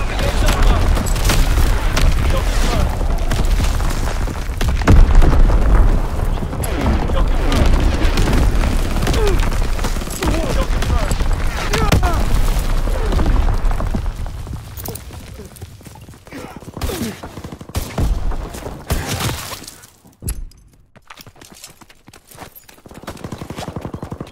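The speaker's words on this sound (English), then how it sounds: "Firing division artillery." Artillery barrage in the World War II shooter Call of Duty: WWII, a dense, loud rumble of booming explosions and gunfire that runs continuously, then thins into scattered blasts with brief gaps near the end.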